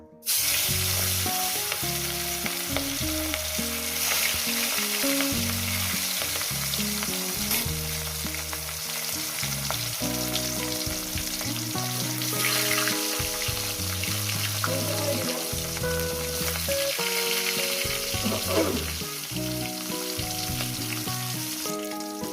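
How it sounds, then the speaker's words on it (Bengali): Katla fish belly pieces sizzling in hot oil in a pan, a constant crackling hiss, with soft music playing throughout and no talking. "মাছগুলো আমার ভাজা হয়ে গেছে"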